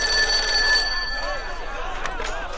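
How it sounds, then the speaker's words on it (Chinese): A telephone rings in an indoor drama scene, its electronic bell tones clear and steady for about a second before fading under room noise and a few faint sounds. "奎叔，马上给三叔打个电话。"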